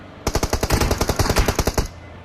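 Rapid automatic gunfire in a video game: a dense string of roughly a dozen sharp shots fired close and loud for under two seconds, then it stops abruptly.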